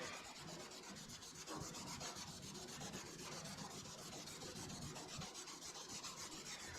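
A plastic lens for a custom light on an M-1 Cobra is rubbed by hand with buffing compound. A faint, steady, rasping friction sound continues throughout without pause.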